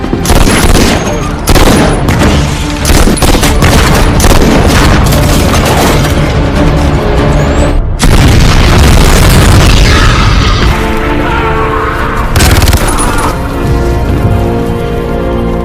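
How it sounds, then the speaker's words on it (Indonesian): Heavy booms and bursts of gunfire fill a film shootout, with dense loud blasts and a constant roar of music and effects throughout. "Terjadilah baku tembak di sana"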